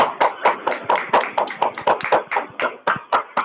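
A live audience claps to welcome a guest, a steady burst of applause with sharp, rhythmic hand claps that carry on for several seconds without any voices.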